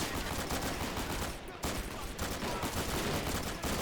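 Dense, continuous gunfire from a video game battle, with rapid overlapping shots forming a steady crackling barrage and a brief dip partway through.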